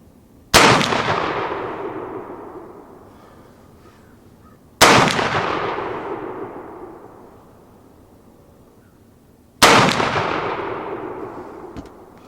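Three loud, evenly spaced shots from a Civil War Smith carbine crack out at an outdoor range, about four seconds apart, each one booming and then fading into a long echo.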